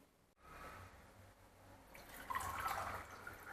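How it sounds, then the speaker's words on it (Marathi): Chilled spiced mint buttermilk poured into a glass, heard as a faint, close liquid trickle and splash that builds over a few seconds in a quiet room. "चला, ग्लासमध्ये ओतून घेऊया।"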